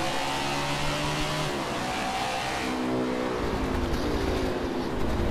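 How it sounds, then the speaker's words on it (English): A pack of NASCAR race cars in the NASCAR 21 video game at Road America howls past, with layered high-revving engines whining and shifting pitch continuously and loudly throughout, and no talking over them. "all of a sudden you come out and see and hear a bunch of race cars"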